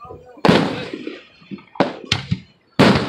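Fireworks exploding at a fireworks show, several sharp booming blasts with crackling tails at irregular intervals, loud and fairly close, mixed with voices of people talking.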